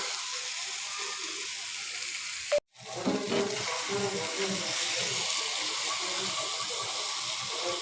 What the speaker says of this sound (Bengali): তারপর এটাতে গরম পানি দিব